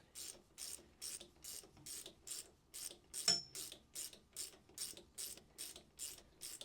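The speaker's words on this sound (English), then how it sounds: "keep winding this screw all the way in until our impeller's all the way out" Rhythmic ratchet clicks from winding an ImpelPro large puller screw to draw out a Scania marine impeller, about a dozen evenly spaced metallic clicks with one sharper clack midway, close and clear with no talk.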